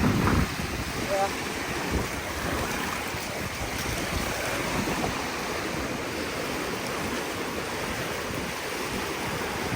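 Fast water rushing through a clogged culvert in Arkansas, a loud steady broadband roar with wind buffeting the microphone, close and continuous.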